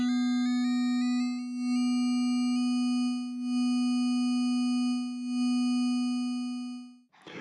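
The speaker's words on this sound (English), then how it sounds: "I choose an even higher frequency of operator 6 now, but still use an even factor to get a low LCM and a harmonic sound." A steady harmonic FM synthesizer tone with operator 6 set to a higher even frequency ratio, holding one pitch with bright stacked overtones that step upward in a few stages, sounding alone and loud before cutting off abruptly near the end.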